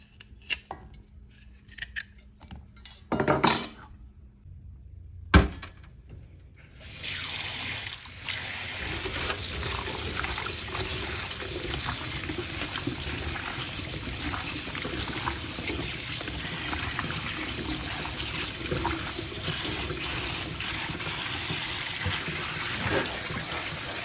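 Carrots are washed in a pot under steady running water for a Jamaican carrot punch, the close broadband rush continuing for most of the clip after a few sparse clatters and knocks at the start.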